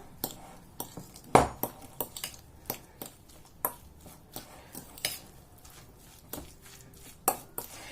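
Three eggs are being mixed in a bowl, heard as a regular series of sharp clinks and taps about twice a second. The sounds are close and fairly quiet, with no talking.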